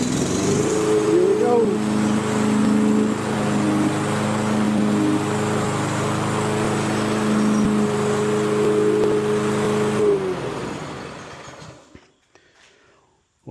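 A Toro lawn mower engine, restored with a cheap part, runs at a steady loud idle with a droning hum, then winds down and cuts out near the end; someone speaks briefly over it.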